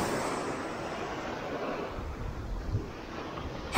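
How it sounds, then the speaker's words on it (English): Outdoor wind buffeting a microphone near the water while fishing, a loud broadband rush that is steady and unbroken, with no voices. "Got the wind coming from the back."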